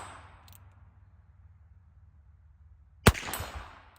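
A single sharp gunshot at an outdoor shooting range, loud and abrupt after near silence, followed by a short ringing decay.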